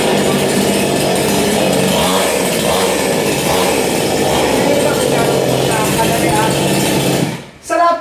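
A chainsaw engine roars loudly and steadily for about seven seconds, then cuts out abruptly and gives a short final burst.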